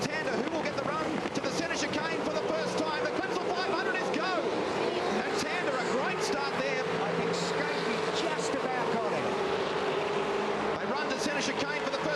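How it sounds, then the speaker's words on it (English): V8 Supercars race cars rev their engines together on the grid at the start of the Clipsal 500 in Adelaide, a dense, steady roar of many engines with a commentator talking over it. "All in readiness, the revs rise."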